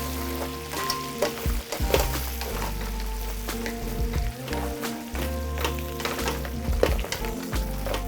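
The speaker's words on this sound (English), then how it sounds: "I'm gonna toss them up, get them coated, get some of that oil and butter." Dungeness crab sizzles in hot oil and butter in a pan as it is tossed, a steady close frying crackle broken by scraping stirs and pan clatter.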